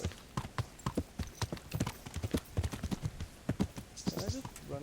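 Horse hooves clip-clop in a video game, a quick, irregular run of loud nearby strikes with someone talking over them.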